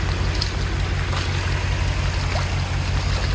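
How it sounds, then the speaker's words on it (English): Swollen farm creek water rushes steadily after heavy rain, a loud, continuous close-up wash with no voices. "Water running, I can feel it on my feet."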